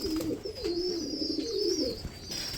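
Black-eyed Budapest pigeons coo nearby in steady, rolling phrases, with a thin high whistling tone running above the calls.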